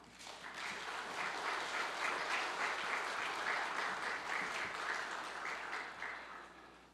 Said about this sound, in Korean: 나오실 때 크게 박수로 환영해 주시기 바랍니다